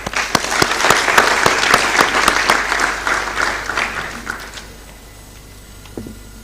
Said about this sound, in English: be with me to applaud for his efforts